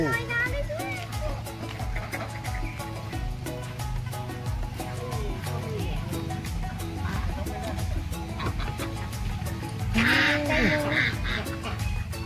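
Ducks quack and honk in bursts amid a busy outdoor farm scene, with people talking over them; one louder cluster of calls stands out near the end.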